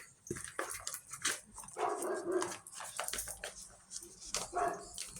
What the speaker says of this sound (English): Something got to change with the dog barking.